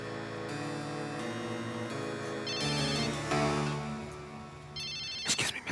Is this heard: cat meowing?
no